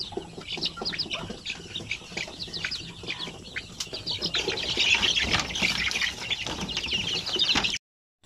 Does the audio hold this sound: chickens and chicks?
yes